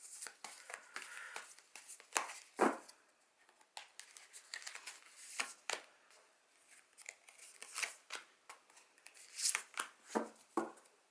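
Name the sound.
shuffling large tarot cards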